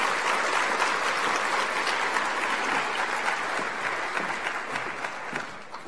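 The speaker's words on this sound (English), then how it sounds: "Can you please give our finalists a huge round of applause?" A hall audience at an education awards ceremony gives sustained applause for the award finalists, a dense, even wash of clapping that fades slightly near the end.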